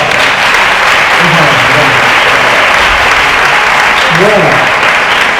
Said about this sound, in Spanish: os pido que le recibamos con un fuerte aplauso